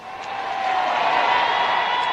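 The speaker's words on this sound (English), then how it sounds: "listen to the crowd." A large crowd cheers as the King, in the uniform of an Admiral of the Fleet, and two princesses appear on a palace balcony: a steady, dense roar that swells slightly and holds loud throughout, with no clear individual voices.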